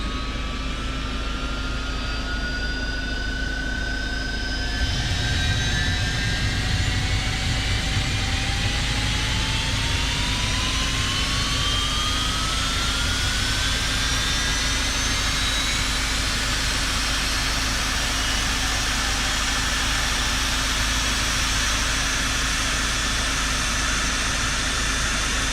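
A FlightFX HJet light business jet in Microsoft Flight Simulator 2024 starting its left engine: a steady whine rises slowly in pitch over many seconds, joined by a low rumbling roar as the turbine spools up to idle, with no talking.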